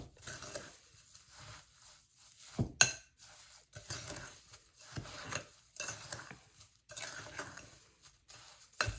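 A spoon scraping and clinking against a bowl while pineapple is mixed and coated with sugar into a cranberry jello salad, intermittent bursts of stirring with short pauses, close and fairly quiet.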